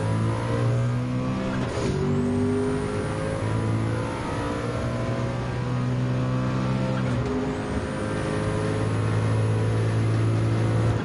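Porsche 962C race car engine in Gran Turismo 7, a steady loud drone with strong low harmonics that dips briefly around gear changes and then climbs again, close and continuous with no voices.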